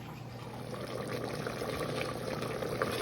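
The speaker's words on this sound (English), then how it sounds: "So that's my rice, they're bubbling." Rice bubbling in a pot on the stove while Jamaican cow foot curry is cooked, giving a continuous close, soft bubbling and simmering hiss at a steady level, with no talking.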